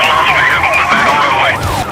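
A police car siren wails during a highway chase, a loud continuous wavering tone that sweeps up and down, close and dominant with engine noise beneath.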